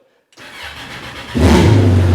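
A small mini jet boat motor cranks and catches after a short silence, running rough, then surges into a loud, steady roar with a deep throbbing drone.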